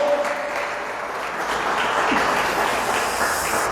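A church congregation claps together in a dense, steady burst of applause that fills the room, holding at an even level without fading.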